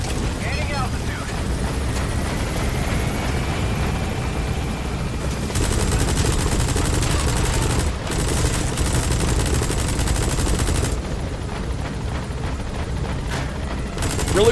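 Sustained gunfire in Metal Gear Solid V: The Phantom Pain during a helicopter extraction, a dense continuous barrage mixed with rotor and engine roar, with in-game voices heard.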